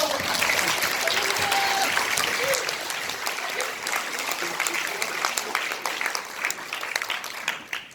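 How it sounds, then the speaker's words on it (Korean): A crowd applauds loudly at a launch ceremony at the National Assembly, a dense wash of clapping that gradually thins into scattered, uneven claps toward the end. "크게 박수 한번 쳐주십시오."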